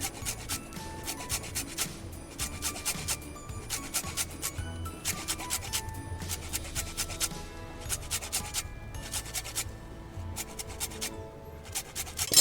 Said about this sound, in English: Now I'm gonna add some orange zest to that egg.